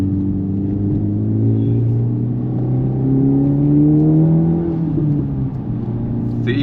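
A 2025 Honda Civic Type R engine with a stage 1 intake drones and rumbles up close, its pitch rising and falling as it revs, with a whirring intake tone over the low hum.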